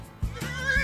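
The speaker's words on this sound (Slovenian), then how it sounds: "Konj rezgeta." A horse whinnies in a brief, loud, close call that rises and wavers, with a faint hoof knock at the start.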